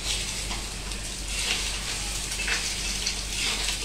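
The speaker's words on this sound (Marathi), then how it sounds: "मम्मीने मला सांगितलं पण नाही की फ्राय करत आहे" Pomfret fish frying in a home kitchen pan, a steady hissing sizzle with faint pops, close and continuous, with no voices.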